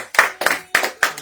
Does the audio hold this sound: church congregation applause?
yes